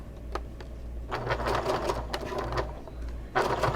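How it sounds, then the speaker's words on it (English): A sewing machine stitches a convertible bag in short running bursts of rapid mechanical chatter, loud and close, with brief pauses between seams. "I'm going to sew about 3/4 of an inch up"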